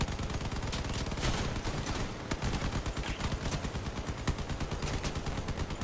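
Sustained, loud gunfire in the vehicle combat game Crossout, a dense unbroken stream of rapid shots and impacts with no talk.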